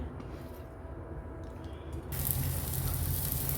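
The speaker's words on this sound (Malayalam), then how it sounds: "സവാള ഇതുപോലെ ഒന്ന് വഴറ്റിയെടുക്കണം കേട്ടോ" Sliced onion sautéing over a high flame in a pan, a quiet low background that bursts into a loud, steady, hissing sizzle about two seconds in and carries on to the end.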